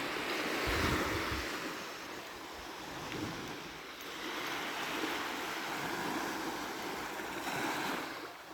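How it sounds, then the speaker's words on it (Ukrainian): Sea waves roll onto a sandy beach at Chornomorsk on the Black Sea coast, a steady surging wash of surf that swells and eases, with wind buffeting the microphone. "Хвильки."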